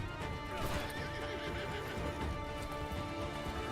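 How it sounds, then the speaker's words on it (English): Horse in a video game, a loud, close whinny and snorting mixed with clip-clopping hooves, continuous for a few seconds without speech. "Break a horse in."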